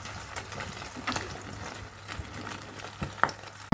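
Eggs frying in a pan on a stove, a soft, quiet sizzle with scattered light crackles and pops continuing steadily throughout, with no voices.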